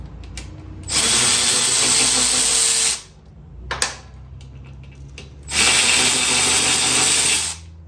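A power tool loosens the front brake caliper bolts on a 2020 Harley-Davidson Low Rider S in a home garage: two loud, sustained whirring bursts of about two seconds each, with quieter clicks and handling noise between them.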